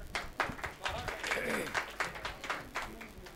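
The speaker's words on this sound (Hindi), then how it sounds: "जोरदार तालियों से उनका।" Mushaira audience clapping for a poet, a faint, loose patter of applause with uneven bursts under a voice.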